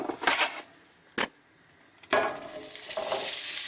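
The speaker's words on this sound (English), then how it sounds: "I'm gonna cook it in butter." Street taco ingredients frying in butter in a cast iron pan inside an RV kitchen, loud close sizzling that flares in bursts with brief scraping stirs and short quieter gaps between.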